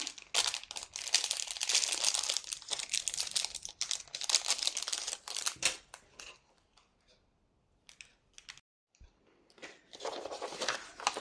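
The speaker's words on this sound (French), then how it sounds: "Je fais les plis. Je découpe l'excédent." Paper being creased and trimmed while making a folio box, with close crinkling, rustling and snipping in busy bursts, a quiet pause, then more handling.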